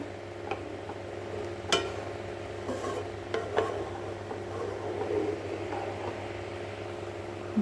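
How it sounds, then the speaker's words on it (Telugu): Spoon scraping and stirring milk in a pan while making kalakand, faint and steady with scattered light ticks and clinks of utensil against metal, no voices. "ఇలా కలుపుతూనే ఉండాలి"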